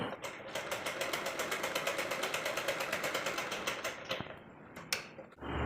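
A sewing machine stitches a slanted seam in blouse fabric, running in a fast, steady mechanical clatter of needle strokes for about four seconds before slowing with a few last clicks and stopping, close and clear, with no talk.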